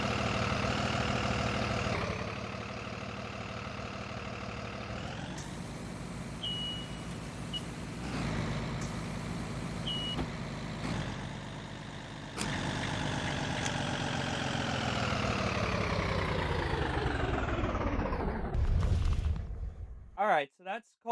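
A bus engine in the Rigs of Rods driving simulator idles with a steady droning hum, rising and settling in pitch through several shifts, with a couple of short beeps before the engine winds down and cuts off near the end.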